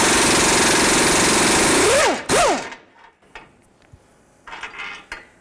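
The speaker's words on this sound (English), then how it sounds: "let's remove this bolt with our 18mm swivel." An 18mm swivel socket on a tool driving out the rear control arm bolt at the subframe of a 2007-2014 Ford Edge, a loud steady mechanical whir for two seconds that stops abruptly, followed by a short burst and faint clicks and rattles.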